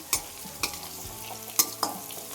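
Eggplant for vangi bath fries in a pan, a soft sizzle punctuated by four or five sharp spatula knocks and scrapes close by, with no speech.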